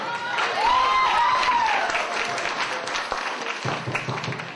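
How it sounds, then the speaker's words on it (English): Wedding guests applaud as the best man is introduced, a loud, sustained crowd clapping with cheering and a rising whistle, tapering off toward the end. "Big round of applause for Dom."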